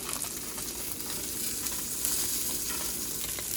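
Italian sausages frying in a pan, a dense, even sizzle and crackle that holds steady throughout, close and moderately quiet.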